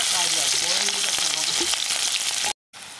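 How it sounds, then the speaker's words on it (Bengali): Green chillies, onion and garlic hit hot oil with a loud, steady crackling sizzle and occasional stirring scrapes, broken by a short silent gap near the end before the frying noise resumes. "আমি কাঁচা লঙ্কা, পেঁয়াজ আর রসুন দিয়ে দিচ্ছি"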